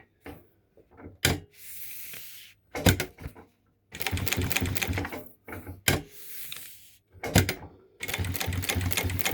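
A Sewtech SW-K6-D4 automatic industrial sewing machine runs in short bursts, its rapid mechanical chatter starting and stopping repeatedly with quiet gaps and sharp clicks between runs.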